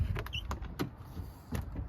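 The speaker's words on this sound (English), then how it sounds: "how crisp the doors open and close" Door of a 1996 diesel Chevrolet Suburban, a former farm truck, opening and shutting in a series of quick mechanical clicks and latch knocks, close and fairly quiet, with no talking.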